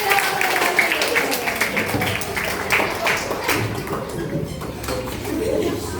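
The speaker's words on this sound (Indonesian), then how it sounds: "kasih tepuk tangan semuanya" A classroom of children clapping together, a dense, uneven patter of hands lasting the whole stretch, with voices mixed in.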